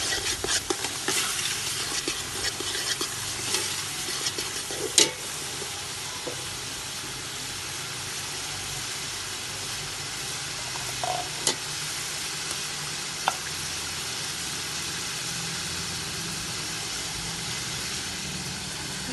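Chicken for biryani sizzles and fries in a pot while being stirred, a steady loud hiss with occasional sharp clinks of a spoon against the pan.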